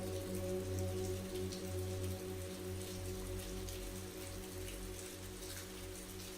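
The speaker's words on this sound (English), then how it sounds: "As the rain continued to fall" Steady rain falls and patters on surfaces in a park, an even, continuous hiss without a break, with no voices.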